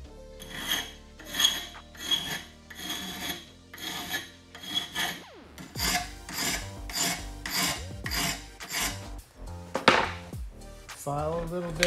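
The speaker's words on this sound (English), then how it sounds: "File a little bit and then check. If you keep on filing, you could get into trouble." A hand file working a steel bicycle frame tube for a custom electric mountain bike, giving a run of distinct rasping strokes, slower and even at first, then quicker and shorter, close and clear.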